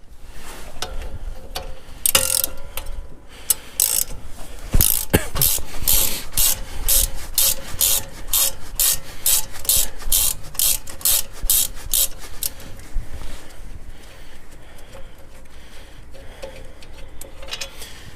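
A ratchet works on front brake caliper bolts of a 2009-2018 Ram 1500 in a repair setting, with rapid, steady clicking sustained for many seconds, loud and close, mixed with metallic rubbing and handling noise.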